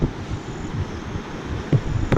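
A waterfall at the end of a trail past rice terraces in the Philippines gives a steady, broad rushing roar heard from a distance, with nothing else over it.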